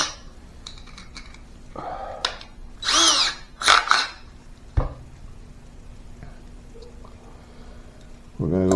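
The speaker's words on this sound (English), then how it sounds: "and that hole I just drilled" A power drill boring a hole in a bass guitar kit body, with short bursts of whirring and bit noise, a few clicks and knocks, close and moderately loud.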